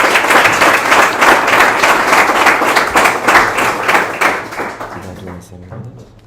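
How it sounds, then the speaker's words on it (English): A conference audience applauds a presenter after an investor pitch, loud dense clapping that runs steadily, then thins and fades out toward the end as voices talk over it. "Big applause for him, please"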